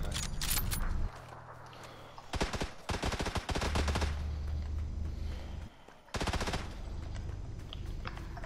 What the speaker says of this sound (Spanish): No sé de dónde me dispararon.